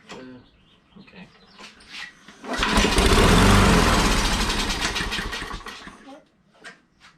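A Briggs and Stratton lawn mower engine fitted with an aftermarket carburetor cranks, catches and roars at a loud, steady run for about three seconds. It then winds down, with faint sputters and brief talk around it.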